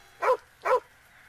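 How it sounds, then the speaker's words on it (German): Two short, close dog barks in quick succession from the underwater adventure game Nightmare from the Deep 3: Davy Jones, with a faint steady background hum and no talking. "der Hund nervt jetzt ein bisschen mit seinem Gebelle"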